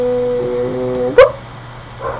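A pet dog whines and gives a single short yelp in the background of a Mari0 game session, a drawn-out tonal whimper followed by one sharp, bright bark, then a faint trailing whine.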